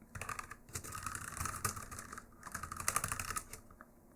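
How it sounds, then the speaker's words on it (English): Computer keyboard and mouse in use while playing the game Void, with irregular soft keystrokes and clicks in uneven bursts and short pauses, close and quiet with no talk. "I hope you like keyboard and mouse sounds"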